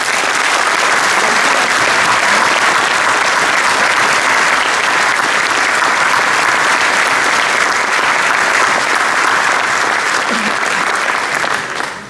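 A big round of applause at a Catholic congress, a dense, loud crowd clapping that runs steadily for about twelve seconds before starting to fade at the very end.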